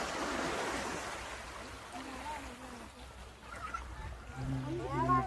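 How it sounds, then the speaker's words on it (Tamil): Sea waves wash against the shore at the Pamban bridge beach near Rameswaram, a steady moderate surf under wind, with people talking nearby and a brief melodic tone near the end. "சிலு சிலு சிலு சிலுன்னு அடிக்குது கடல் அலை."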